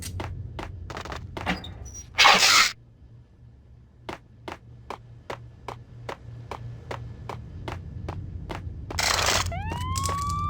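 Police sirens in the Max Payne PC game: a rising electronic wail sweeps upward near the end, following a steady series of sharp clicks and two short loud bursts of noise.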